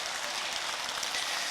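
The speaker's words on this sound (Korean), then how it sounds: "마음에 드는 만큼 박수를" An audience at a Buddhist expo talk in Busan breaks into applause, a dense, even patter of many hands clapping at moderate loudness throughout.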